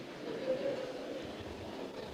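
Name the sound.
heavy lorry passing by outside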